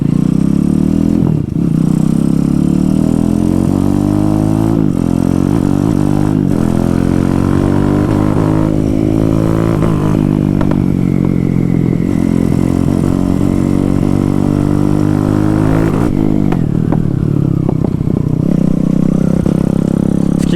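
A Honda MSX motorcycle swapped to a poorly tuned Zongshen 212cc engine, ridden with a loud, steady buzzing drone that revs up and down through gear changes, close and constant with no talk.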